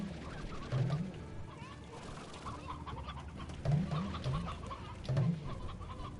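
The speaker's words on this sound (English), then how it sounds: "That's a lot of chickens." Chickens cluck in the game Slime Rancher, with short repeated bursts of clucks and calls rising out of a busy background of game sounds.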